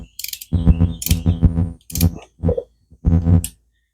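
A torque wrench tightens Harley-Davidson cylinder bolts in stages, starting at a low setting: several short bursts of close, dry ratcheting clicks, separated by brief pauses.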